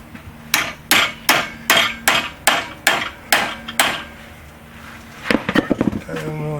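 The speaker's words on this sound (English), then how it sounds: "Take a hammer, put it all the way in." A hammer strikes a Mopar metal water nipple fitting in an engine block about ten times in a steady rhythm, loud and close, followed by a burst of quicker taps and a voice.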